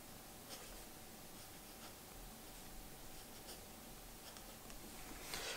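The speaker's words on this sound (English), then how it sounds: "welcome to part two of the writing sample with the Jinhao 80. With a Lamy medium nib" A Jinhao 80 fountain pen with a Lamy medium nib scratches softly across paper in a continuous, faint scribble with light strokes and pauses, close and quiet over a hiss.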